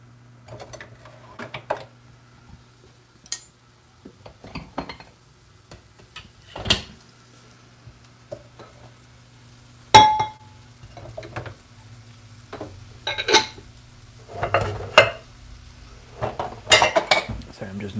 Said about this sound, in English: I'm just navigating my dish rack here for a second, trying to get my pirate spatula